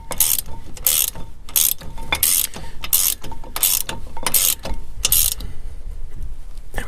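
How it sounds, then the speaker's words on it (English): Ratchet wrench tightening the brake caliper bracket bolts on a Ram 1500 pickup: a loud, close run of about ten quick clicking strokes in steady rhythm, then a quieter mechanical tail. "Start tightening these bolts."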